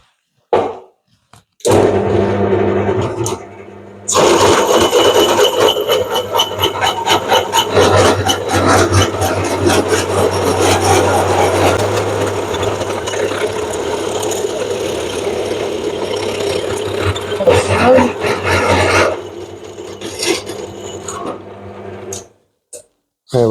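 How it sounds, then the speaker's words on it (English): A tube notcher cuts a notch into a metal tube for a solar arch frame, giving a loud, sustained grinding rasp that runs steadily for about fifteen seconds after a brief start, then stops abruptly. "So let's get this in the tube notcher, put the next notch on, and then we'll see how it fits."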